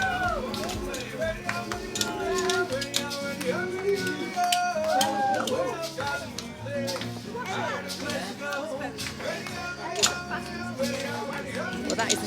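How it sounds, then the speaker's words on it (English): Tambourines and maracas shake amid lively music and crowd voices at a busy entertainment event, a dense, continuous jangle and rattle mixed with chatter and singing throughout. "that is the sound of people having loads of fun and great entertainment"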